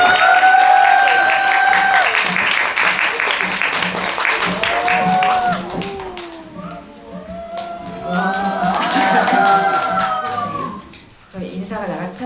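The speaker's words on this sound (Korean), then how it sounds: "큰 박수로" Audience applause welcoming guests at a Korean film talk event, loud clapping under a crowd's voices and cheers, fading toward the end before a few scattered claps.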